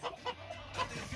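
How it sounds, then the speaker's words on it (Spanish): Crested hens and a rooster cluck softly close by, a few short, scattered calls over quiet farmyard background. "Aquí están los copetones de Junus Bell. con un gallo Rolls Royce"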